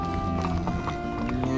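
Horse hooves clip-clop at a steady run in a virtual cattle drive video game, a continuous rhythmic patter under dense game music and ambience.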